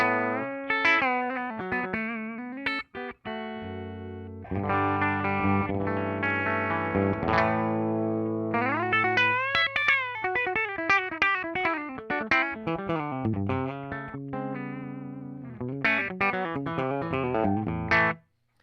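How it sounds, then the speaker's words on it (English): An electric guitar on the bridge pickup plays through a Line 6 Helix Princess amp model with its stock cab, giving a bright, clean-to-lightly-driven tone with single notes, slides and chords, steady and close with no talking. "So this is the Princess with the stock cab still, and I'll switch to the bridge pickup."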